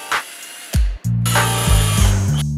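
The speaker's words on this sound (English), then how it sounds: "If you start drilling at an angle from the very beginning, the drill bit might slide over the surface." An electric drill starts at an angle on a surface, its motor whirring in short bursts with a brief stop between, the bit skittering and grinding up close, loud and alone.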